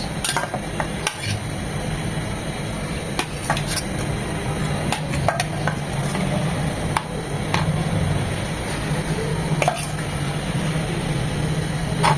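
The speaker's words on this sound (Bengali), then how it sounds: "তেলটা গরম হয়ে এসেছে দিয়ে দিচ্ছি টাকি মাছ" Taki fish frying in hot mustard oil in a pan, a constant loud sizzle and crackle with sharp clicks and taps of a utensil scattered through.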